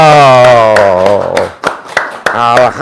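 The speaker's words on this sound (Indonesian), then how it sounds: "Sip, tepuk tangan dong." A handful of sharp hand claps land in a loose, uneven rhythm beneath a drawn-out, sung-like voice, fairly close and moderately loud.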